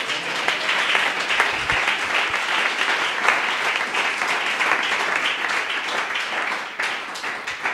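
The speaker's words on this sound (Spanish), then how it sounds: "Dele un aplauso a la gloria de Dios." A church congregation applauds in praise after a baptism, many hands clapping together in a dense, lively wave that stays strong throughout, with a faint voice now and then beneath it.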